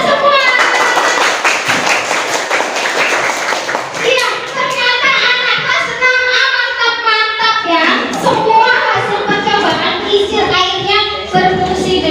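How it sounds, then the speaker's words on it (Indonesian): Pupils in an Indonesian classroom clap together, a loud burst of many hands lasting a few seconds, followed by children's voices chanting and talking. "tepuk tangan buat kita"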